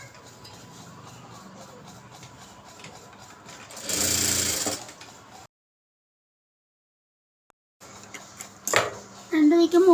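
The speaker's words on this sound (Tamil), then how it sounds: "இதில் 2 பக்கமும் ஒரு ஓரம் அடிச்சுக்கிறேன் நான்." A sewing machine runs a short burst while stitching the edges of a fabric lining for a pencil pouch, then stops for a silent gap before handling noises and a voice return.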